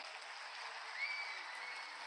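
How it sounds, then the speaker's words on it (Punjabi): A crowd claps at a Chief Minister's public announcement event in Patiala, a faint, distant, continuous patter of applause with no voices on top. "ਤਾੜੀਆਂ ਮਾਰ ਕੇ ਹੌਸਲਾ ਵਧਾ ਜਾ ਕਰੋ"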